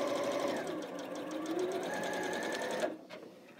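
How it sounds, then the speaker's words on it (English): A sewing machine stitching a quarter-inch seam on a small quilt sampler block runs in a steady, fast mechanical whir for about three seconds, close and clear, then stops abruptly, leaving faint handling noise. "I am sewing a quarter inch away from my line"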